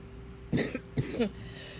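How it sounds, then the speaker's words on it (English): A few harsh coughs in quick succession, close by, with a short pause between bursts, over a faint steady hum. "I got into a coughing jag and couldn't stop"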